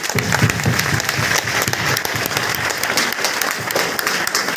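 Loud applause from a crowd at a DXN meeting program in Basti, steady dense clapping throughout under a faint murmur of voices.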